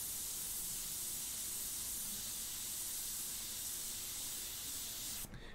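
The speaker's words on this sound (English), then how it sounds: "So now going back to my airbrush here." Continuous steady hiss of an airbrush spraying paint for a portrait, loud and unbroken, cutting off sharply near the end.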